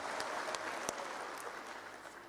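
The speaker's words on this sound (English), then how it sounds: "Please, a round of applause to our president," A crowd at a national SMEs and cooperatives opening ceremony applauds the president, a faint, distant patter of clapping that holds steady and tapers slightly toward the end.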